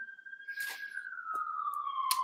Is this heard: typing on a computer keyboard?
no